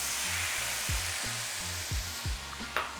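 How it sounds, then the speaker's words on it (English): Bourbon hits a hot pan of bacon fat and sizzles in a continuous close hiss, with a few dull knocks of the pan or spoon under the frying. "I'm gonna put the bourbon in there to deglaze the pan"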